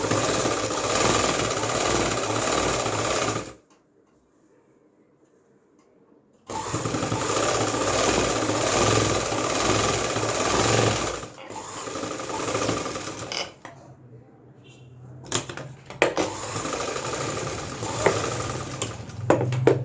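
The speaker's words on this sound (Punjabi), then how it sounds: "ਇਹ ਪਹਿਲੀ ਸਲਾਈ ਲਾਵਾਂਗੇ ਲੈਸ ਦੇ ਕੋਨੇ ਤੇ ਆਪਾਂ ਨੇ ਸਲਾਈ ਲਾਉਣੀ" A sewing machine stitches lace onto the corner of fabric in loud, close running bursts, stopping briefly and restarting for short runs of stitches.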